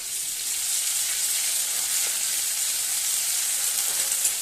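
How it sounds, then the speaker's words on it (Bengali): Ground cumin paste hits hot oil already used for frying hilsa and tempered with nigella seeds, giving a steady, even sizzle close by that runs unbroken throughout. "এবার দিয়ে দেবো জিরে বাটা।"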